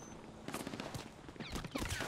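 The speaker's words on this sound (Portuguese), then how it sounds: "Oh, é de tiros!" Gunfire in GTA V Online during a heist mission, with a dense, continuous rattle of shots and bursts throughout.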